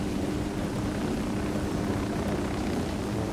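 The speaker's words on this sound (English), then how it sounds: "I've never been on a helicopter ride before." A helicopter in the video game Ghost Recon Wildlands drones steadily with a dense, even rotor and engine roar throughout, close and loud, with no speech.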